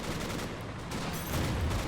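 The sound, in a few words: burst gunfire in Stalingrad battle video game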